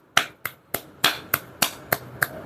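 Loose-palmed hand clapping done as a finger-stiffness exercise, eight crisp, evenly spaced claps at a steady moderate pace, close and clear with no talking.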